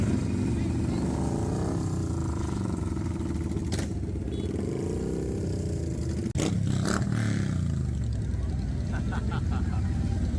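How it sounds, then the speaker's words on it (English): A Ducati motorcycle rides past on a street in Dumaguete, its engine a loud, steady drone that swells and fades as it goes by, mixed with other traffic noise and faint background voices. "Oh, there's the Ducati."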